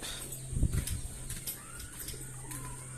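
Pigeons coo softly inside the old stone Gingee Fort near Tiruvannamalai, low muffled throaty calls near the start over a faint hum, with scattered distant chirps and background noise.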